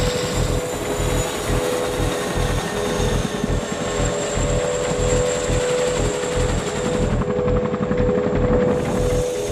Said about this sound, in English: One of the most popular helicopters used for helocasting is the Boeing CH-47 Chinook.